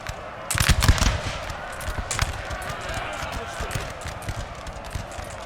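Crackling musket volleys in the Napoleonic Total War 3 battle game, a cluster of shots early then scattered distant firing, heard under a voice commentating on the battle.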